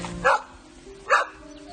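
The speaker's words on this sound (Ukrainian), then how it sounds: "на даний час тут бігають тільки собаки" Two barks from a dog at moderate distance, spaced about a second apart, over steady low background noise.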